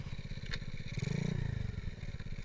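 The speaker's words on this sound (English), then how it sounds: "It's a ATC 70 with a 125cc semi-automatic 3-speed pit bike motor." A modified Honda ATC 70 three-wheeler fitted with a 125cc semi-automatic three-speed pit bike engine runs with a rapid buzzing, clattering putter that briefly swells louder midway, close and steady without talk.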